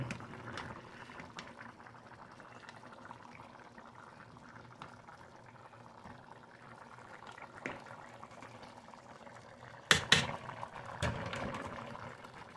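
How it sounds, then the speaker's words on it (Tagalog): Low bubbling of coconut milk sauce simmering in a pan with fried fish and vegetables, soft and steady, with a few louder clattering knocks near the end. "Kumukulo na guys"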